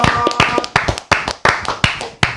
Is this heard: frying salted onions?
no